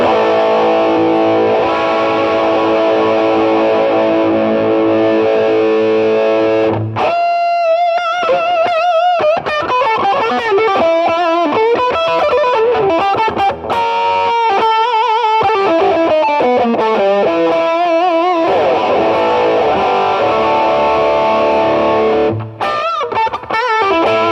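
A loud electric guitar through a Boss ME-70 Tube Screamer-style overdrive plays sustained chords and then a busy riff of notes, thick and saturated throughout.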